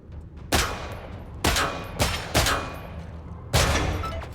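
Sidearm shots fired at targets in the video game Killing Floor 3, five sharp, loud reports spaced irregularly with short decaying tails between them.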